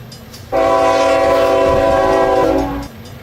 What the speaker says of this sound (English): we're hearing the train horn as coming at really fast speeds